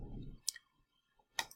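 Computer keyboard keys and a mouse click sharply a few times, two distinct clicks about a second apart after a brief low rumble, close and otherwise quiet.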